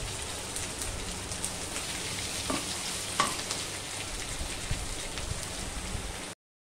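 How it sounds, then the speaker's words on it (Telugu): Green chillies and potato pieces frying in a pan, a constant soft crackling sizzle with a few sharper pops and scrapes of stirring, fairly faint and even throughout. "పచ్చిమిరపకాయలు, బంగాళాదుంప ముక్కలు వేసి బాగా ఫ్రై చేసుకుంటాం."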